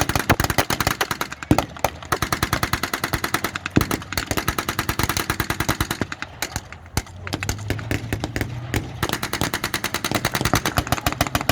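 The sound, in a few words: gunfire from troops in a WW2 battle re-enactment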